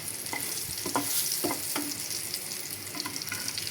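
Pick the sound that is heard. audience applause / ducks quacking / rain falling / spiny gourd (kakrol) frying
spiny gourd (kakrol) frying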